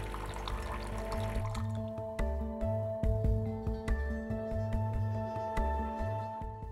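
A SPECIAL.T tea machine priming, its pump humming in a steady pulsing rhythm while water flows into a cup, with a constant tonal drone and periodic low throbs, close and moderately loud.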